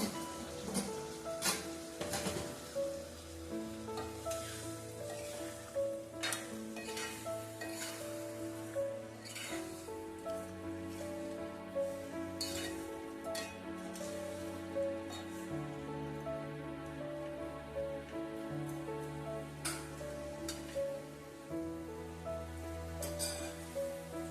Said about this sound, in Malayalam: നമ്മുടെ വിനാഗിരിയൊക്കെ നന്നായിട്ട് തിളച്ചു വന്നു.